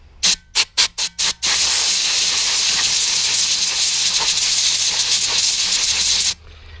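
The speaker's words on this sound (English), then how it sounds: "I am going to blow through this fuel line, which will blow through the strainer and will blow all the silt and debris off the strainer" Compressed air blown through the fuel line and strainer of a Honda GX160-powered spray rig: five short sharp bursts of hissing air, then one long loud continuous blast lasting about five seconds before cutting off, close by with no talking.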